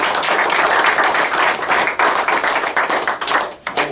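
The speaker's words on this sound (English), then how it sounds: "let's give her a round of applause" An audience claps steadily in applause at an EAA chapter pilot-profile talk, a dense continuous wash of hand claps lasting several seconds, with no talk over it.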